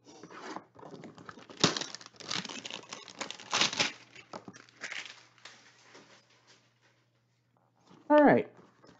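Crinkly plastic packing material from 2016 Panini Elite football card hanger boxes rustles and crackles in loud bursts, mixed with voices talking over it.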